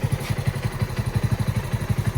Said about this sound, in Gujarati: જો બાઇક ચાલુ કરી દીધું છે.